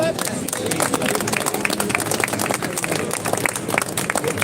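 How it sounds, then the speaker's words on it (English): Live audience at a Liverpool gathering breaks into dense, steady applause that fills the whole stretch, with crowd murmur and a voice speaking over the clapping. "Another round of applause for Paul"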